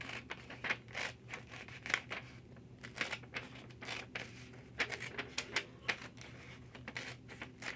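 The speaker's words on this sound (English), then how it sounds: "I'm going to use my scissors like I did for the postcard" Scissors cutting a stripe out of glossy magazine paper: quiet, irregular crisp snips and rustles at close range, repeating in short clusters throughout.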